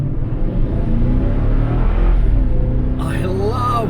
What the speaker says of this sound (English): I love that V8 engine.